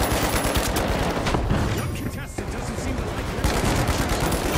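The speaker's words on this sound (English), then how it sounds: "Shot going up the stairs." Gunfire in the video game The Finals: dense, loud bursts of rapid shots crackling close by, nearly continuous with brief dips between volleys.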